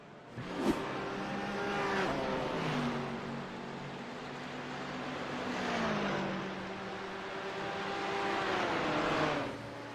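A GT4 race car engine on the Canadian Tire circuit drones and rises and falls as the driver lifts and gets back on the throttle, a sustained, moderately loud roar with shifting pitch and no voices over it.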